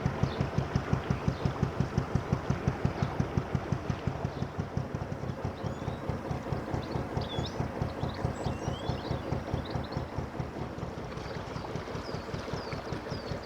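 A narrowboat engine chugs steadily at a slow cruising pace, a loud, close, even low-pitched thump repeating rapidly and unbroken throughout, with no voices.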